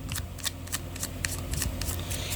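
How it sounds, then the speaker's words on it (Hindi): Tarot cards being shuffled by hand in quick, rhythmic riffles, close and crisp, with about a dozen sharp flicks over a soft background hum. No voices are heard. "Last shuffle."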